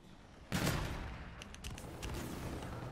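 Gunfire in a close-range gunfight in the Call of Duty: Infinite Warfare video game, a sudden burst of shots followed by continued rapid firing and rumble, moderately loud and steady.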